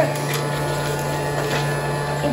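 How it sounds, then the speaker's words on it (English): A Casdon toy Dyson vacuum cleaner runs with a steady electric hum and faint whirring motor, close and even, with slight rattling ticks. "So start the vacuum."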